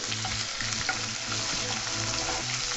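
Slit green chillies and curry leaves fry in hot oil with a busy, close crackle and spatter, while a low rhythmic hum pulses underneath.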